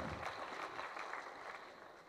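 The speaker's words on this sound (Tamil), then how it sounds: "கைத்தட்டுங்க." A quiet, distant patter of hands clapping from an audience at a film audio launch event, soft and steady without any voices over it.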